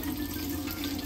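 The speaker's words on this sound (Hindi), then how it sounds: "पानी डाल दे रहे थोड़ा सा।" A small amount of water poured into a device that uses mostly water inside, likely a lavender oil aroma diffuser, giving a steady soft trickle and wash throughout at close range, with no talk.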